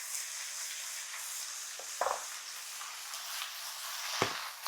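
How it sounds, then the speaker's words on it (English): Beef and its juices hit a hot stir-fry pan, giving a steady soft sizzle with a few sharp crackling bursts, heard close and alone without any talk. "so we can go ahead and throw our beef back in. You'll hear the juice hit the pan"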